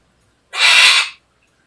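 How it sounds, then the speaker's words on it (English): A macaw lets out one loud, harsh squawk lasting about half a second, close up and otherwise in silence. "I hope you guys have some patience for a squawking, slightly jealous macaw"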